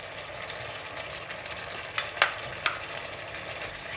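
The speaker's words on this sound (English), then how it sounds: "Give it a stir." Razor clams stir-fry with Thai basil leaves in a hot pan. A steady, close sizzle runs throughout, and a few sharp spatula clinks land near the middle.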